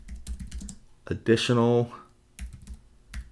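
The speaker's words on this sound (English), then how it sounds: "And I'm going to type" Computer keyboard typing in rapid bursts of close, crisp key clicks, broken by a voice speaking a word partway through, then more quick keystrokes after.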